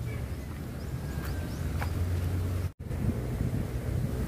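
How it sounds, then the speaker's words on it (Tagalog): Strong wind buffets the microphone outdoors near a fish pond with water spinach patches, a steady low rumble of gusts that briefly cuts out before resuming. "Malakas po yung hangin."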